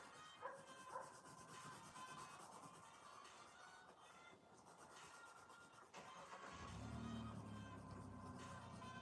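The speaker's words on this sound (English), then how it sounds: "Can you hear my dogs barking?" Duke, a dog shut in downstairs, barks faintly from a distance in a couple of short, muffled bursts over low background hum.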